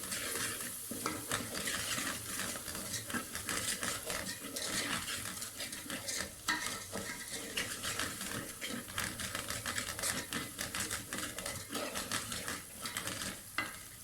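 Ground spices, including chilli, turmeric, black pepper powder, crushed chilli and chicken powder, are stirred and fried in a pan for a white chickpea curry, giving a steady close sizzle broken by frequent scraping stirs, with no talk.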